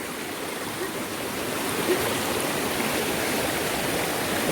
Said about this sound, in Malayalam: ആ വെള്ളം നേരെ വെള്ളച്ചാട്ടത്തിലേക്ക് പോകുന്നത്